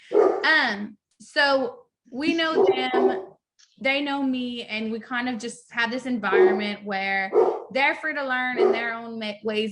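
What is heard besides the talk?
dog barking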